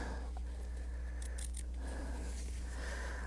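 Fabric scissors snipping close by at a sewing table while a circle is cut out, a few quiet crisp snips and scrapes over a steady low hum.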